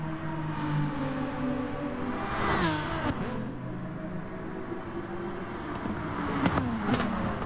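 A race car in GT Sport at Mount Panorama shifting up and accelerating, engine tone dropping at the shift and then climbing again, steady and close without talk.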